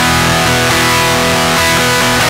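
Raw DI electric guitar line played straight without any cabinet simulation, thin and buzzy sustained notes ringing with sharp harmonic edges for a couple of seconds before cutting off abruptly.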